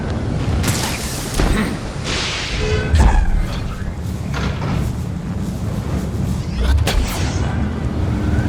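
Gunfire from a played video, sharp cracks and booming shots scattered irregularly over a dense, busy background of whooshes and mechanical noise, fairly loud throughout.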